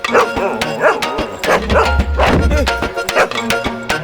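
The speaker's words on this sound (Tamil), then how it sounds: "இங்க ஒரு கொலவெறி பிடிச்ச நாய் இருக்கடா உள்ள" A dog barks inside a room in a Tamil film, repeated loud barks and yips mixed with a music score and thumps across the whole stretch.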